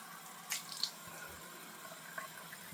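Tap water runs steadily and faintly onto a purple synthetic shaving brush, with a few brief splashes and drips in the gentle stream.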